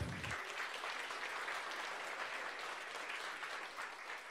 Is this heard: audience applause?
yes